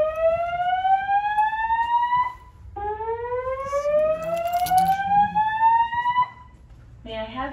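A building fire alarm wails during a test, with repeated rising electronic sweeps that are loud and steady and sound alone, with no talk over them.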